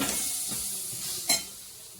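Rava upma mixture stirred in a pan, a soft steady sizzle with light scraping strokes and one brief sharper scrape of the spoon near the end, heard alone.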